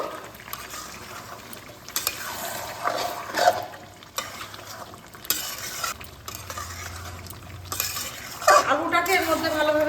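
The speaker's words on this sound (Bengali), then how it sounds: "এবার আমি আগে থেকে আলু ভেজে রেখেছিলাম, এটা এর মধ্যে দিয়ে দিচ্ছি। এর মধ্যে কিছুক্ষণ নাড়াচাড়া করে নেব।" Fried potatoes stirred into a chicken curry in an oily pan, with steady scraping and clinking of a spoon against the pan over a soft sizzle, in bursts at close range.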